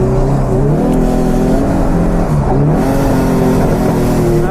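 Pro2 drift car at a BDC 2020 round at Teesside, its engine droning loudly and steadily up close, with a wavering pitch as it stutters and loses power, with no voices.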